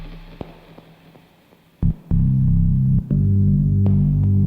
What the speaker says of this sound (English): Kind of a synth organ sound. That's got a fifth going.